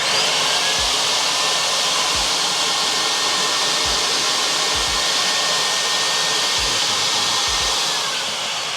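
A small carpet extractor for mobile detailing runs with its vacuum, pump and heater all on, giving a loud, steady, close-up whine. A few low thumps recur under the continuous drone.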